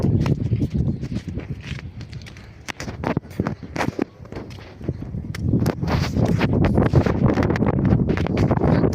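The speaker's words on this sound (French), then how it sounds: "Il y a du vent de partout." Gusty wind buffets the microphone outdoors by a staircase in Port-Vendres, a loud, continuous rumble with scattered footsteps and clattering steps throughout.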